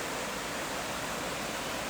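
Rapids on the Hillsborough River in Florida, a steady, dense rushing of flowing water with no distinct splashes, heard up close as an even, unbroken hiss.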